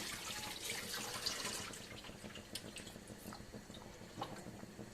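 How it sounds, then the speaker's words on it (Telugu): Water is drained from a pot of rice for biryani, splashing and gushing steadily in a continuous close rushing sound with small drips and clinks. "ఈ వాటర్ అన్ని నేను పారబోసేస్తున్నానండి"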